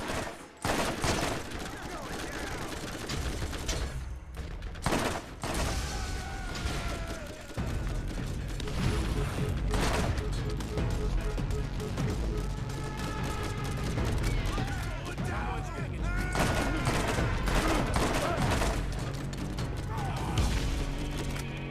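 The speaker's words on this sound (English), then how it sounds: "All right, who's shooting at me?" Rapid bursts of gunfire ring out in the video game Borderlands, a dense, loud fusillade of repeated shots and automatic fire running throughout, with a voice talking over parts of it.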